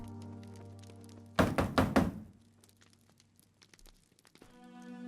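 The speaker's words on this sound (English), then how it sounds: "Let me bang on the door here." Banging on a door in the video game LOTRO: four heavy, rapid thuds in quick succession, then the game's background music carries on alone.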